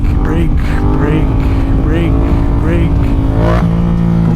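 A Yamaha MT-07 stunt motorcycle engine runs loud and close, its pitch rising and falling in several quick throttle blips and revs over a steady rumbling idle.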